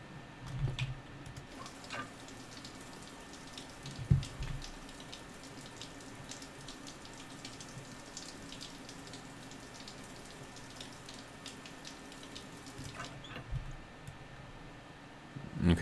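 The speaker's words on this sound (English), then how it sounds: "Take a little shower." Shower running in the Stationeers survival game, a soft continuous spray of water at low level with a few small thumps and clicks near the start and end.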